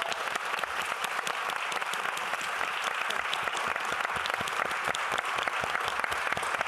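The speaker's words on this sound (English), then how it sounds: "Let's give them all a round of applause." Audience applause for a panel of women leaders at a conference: dense, steady clapping from a sizable crowd that stays loud and continuous throughout, with no talking.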